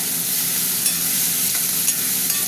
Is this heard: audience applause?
no